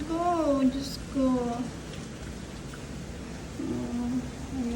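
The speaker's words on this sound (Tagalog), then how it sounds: "Ay, grabe, lakas ng ulan." Heavy rain pours steadily in Singapore, a dense broadband hiss running through the whole stretch, with a person speaking over it near the start and again toward the end.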